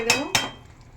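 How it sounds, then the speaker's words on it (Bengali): A lid is set over a pot of chicken cooked with banana flower, giving two quick, close metallic clinks a fraction of a second apart before fading into quiet. "এবার আমি ঢেকে দেবো, ঢেকে রেখে দেবো"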